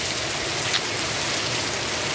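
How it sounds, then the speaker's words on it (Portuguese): Heavy rain falls at 2 a.m. on a Good Friday night in Santana do Ipanema, Brazil, a dense, steady hiss of downpour filling the whole stretch at close range with no voices. "Chegou a chuva forte da cidade de Santana do Ipanema, companheiro, nessa sexta-feira santa."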